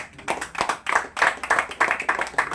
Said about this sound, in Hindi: तालियां बजाएंगे